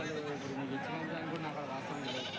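Goats bleat faintly at a Telangana livestock market, a few quiet calls buried in a constant hubbub of crowd chatter and distant voices.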